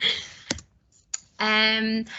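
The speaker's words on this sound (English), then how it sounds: "I can see Banjo typing" Computer keyboard typing heard as a few isolated sharp clicks, followed by a steady tonal hum near the end.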